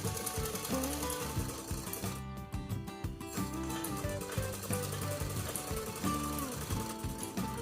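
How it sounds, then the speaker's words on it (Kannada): A sewing machine stitches a shortened Ilkal saree, its steady rapid mechanical chatter running loud and continuous throughout, with a brief lighter patch midway. "ಒಂದು ಸ್ವಲ್ಪ ಕಟ್ ಮಾಡಿಕೊಂಡು ಇದನ್ನ ಒಂದು ಸ್ಟಿಚ್ ಮಾಡ್ಕೋಣ"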